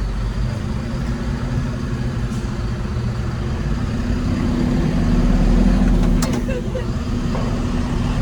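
Unimog truck engine running steadily while driving, with a low rumbling drone that swells in the middle as gears are shifted, heard close from inside the cab.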